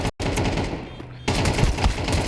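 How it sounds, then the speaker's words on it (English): Sustained automatic gunfire in Counter-Strike during a professional esports match, loud and dense, with a brief gap after the start and a softer stretch before it returns. "He's just going to keep throwing bullets down range."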